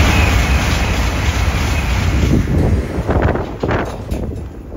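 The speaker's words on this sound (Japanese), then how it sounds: "九州新幹線の N700 系が通過をしてきました" A Kyushu Shinkansen N700 series train rushes past in Ako, Hyogo, as a broad, loud roar mixed with wind buffeting, swelling and then easing over a few seconds with no speech.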